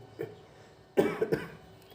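A faint short cough is followed by a louder burst of two or three harsh coughs, close up and with no talking.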